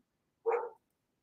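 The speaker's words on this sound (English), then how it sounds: "Sorry about the dogs." A single short dog bark rings out once, moderately near, surrounded by silence.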